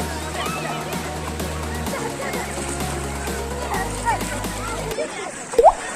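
Sea water at a beach in Martil, Morocco splashes and sloshes around someone wading in, a constant close churning with a voice and other speech mixed in, ending in a sudden muffled thump.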